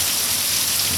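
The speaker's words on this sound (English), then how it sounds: "I knew it was gonna rain, but not like this." Heavy summer rain pours down during a July storm, a dense, continuous hiss of water hitting surfaces, loud and unbroken.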